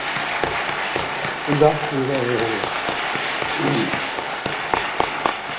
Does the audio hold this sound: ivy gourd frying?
no